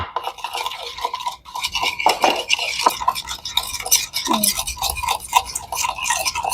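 Duck egg salad with lime and seasoning powder being beaten together in a bowl, giving a steady run of quick scraping, clicking strokes close by, with short pauses and faint voice in the background.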